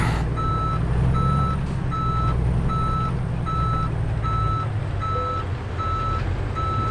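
A truck in Euro Truck Simulator 2 reversing to park, its loud, evenly spaced reversing beeps repeating over a steady low engine rumble, with no talking.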